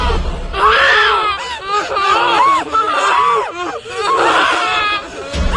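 Children scream in a ghost story, with repeated high, wavering shrieks and whimpering cries, loud and close, overlapping one another in frantic bursts.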